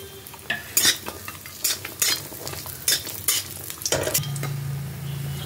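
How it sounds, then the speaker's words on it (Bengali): Lentil dumplings (bori) fry in hot oil in a pan, a soft sizzle broken by repeated sharp scrapes and clinks of a spatula stirring, close by, ending with a low steady hum. "তেলটা গরম হয়ে গেছে, এখন আমি বড়িগুলো ভালো করে ভেজে নেব।"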